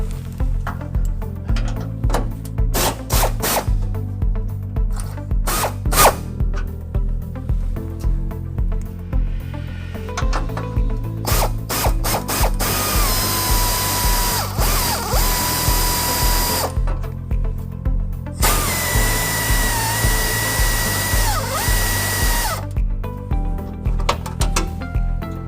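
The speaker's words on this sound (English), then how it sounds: "we're going to take these bumper bolts up here and we're going to loosen them about halfway" A power drill or impact driver loosens the rear bumper bolts on a 2013 Toyota Tacoma during a trailer hitch install, with repeated short whirring bursts and rattling impacts interspersed with clicks and pauses, close and loud, with no talking.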